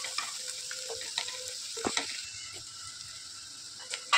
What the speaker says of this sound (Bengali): দেখো ভাজছি